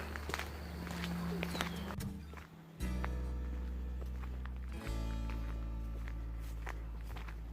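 Steady footsteps crunch along outdoors, close and continuous, with a low rumble of wind or traffic underneath and no talking.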